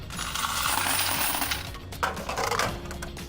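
Quarters pour and clatter out of a laundromat machine's coin box into a container, a dense continuous metallic jingle that runs close and steady throughout with no talking.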